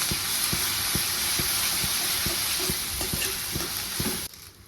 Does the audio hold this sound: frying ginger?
yes